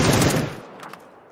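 A short burst of rapid automatic gunfire in the battle royale game PUBG, loud and close, with the shots cutting off after about half a second and a faint trailing echo.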